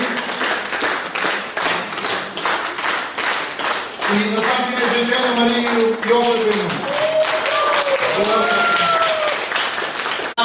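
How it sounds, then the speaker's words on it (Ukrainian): Audience applause at a Ukrainian credit union greeting ceremony, a steady wash of clapping that runs the whole time while someone speaks over it into a microphone, with music-like tones rising in the second half. "Я би хотів дійсно ваших оплесків"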